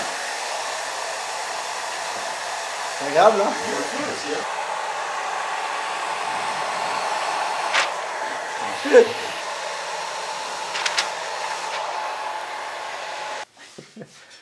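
Steady whooshing hum of an air conditioner blowing close by, with a short spoken remark over it, before the airflow cuts off abruptly near the end.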